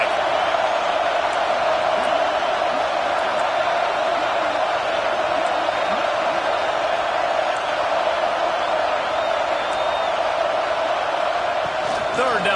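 A packed college football stadium crowd for East Carolina roars in a steady, unbroken wall of cheering during a big moment of a football video game, with commentary voices running over it.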